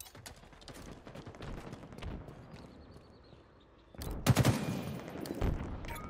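Rapid gunfire crackles in a Halo Infinite capture-the-flag match, in fast bursts that are louder in the second half of the clip. Game sounds clutter the background.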